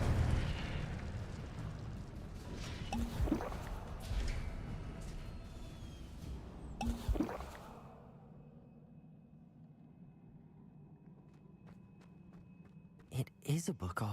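A fire spell cast in the Hogwarts Legacy video game produces roaring whooshing bursts, two strong surges a few seconds apart, followed by quieter rumble and sharp crackling pops at the end, with a voice speaking over it.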